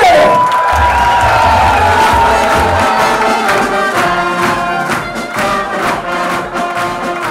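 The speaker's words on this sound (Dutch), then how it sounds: "En we mogen dan een heel groot applaus voor onze prins Peter de Tweede." A large carnival crowd cheers and applauds loudly for the newly installed carnival prince, Prince Peter the Second, with shouts and whoops rising over dense, sustained clapping throughout.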